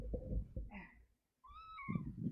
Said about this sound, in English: Oh yeah, this is my cat, by the way.